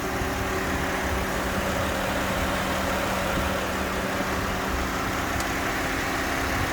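An old SUV engine idles steadily after an engine flush, a smooth low drone with a light mechanical whir, close by and constant, with no talking.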